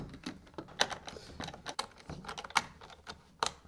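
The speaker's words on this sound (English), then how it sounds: "Put the screws back in." Screws are driven back into the housing of a Soliom S90 Pro solar security camera, giving faint, close, irregular clicks and small scraping ticks. The sounds come in quick uneven bursts with no talking.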